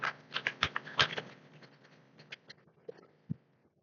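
Python code being typed on a computer keyboard, with a quick flurry of close key clicks that thins out into a few scattered, separate taps.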